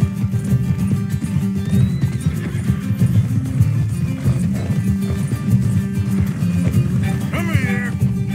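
A horse in the video game Red Dead Redemption 2 gallops with steady hoofbeats and lets out a loud neigh near the end, amid game action and background noise, with occasional voices talking.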